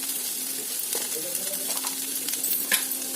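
Salt, turmeric and garam masala being stirred into a curry in a pan, a steady soft sizzle with faint scraping of a spoon running throughout, close and moderately loud.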